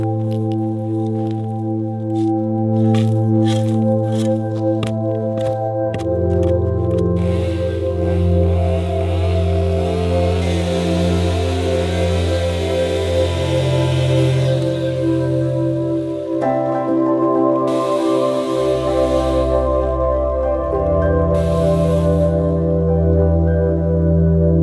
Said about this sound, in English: considering that I'm making these cuts with a chainsaw